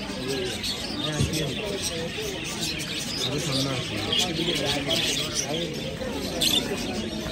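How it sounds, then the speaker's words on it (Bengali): Many parrots chirp and tweet continuously in a busy, crowded bird market in Qatar, with people talking throughout underneath the calls. "এগুলো হচ্ছে টিয়া পাখি।"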